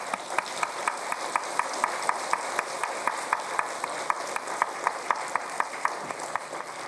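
An audience at a Gyeonggi Province Liberation Day ceremony applauds steadily. The clapping is fairly distant and even, with a few sharper individual claps standing out in a regular pattern.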